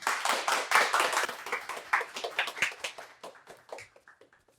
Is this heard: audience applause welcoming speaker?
yes